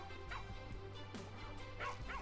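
Guard dogs in the farming game Plantera bark and yip in short, fairly faint bursts over a low steady game background hum.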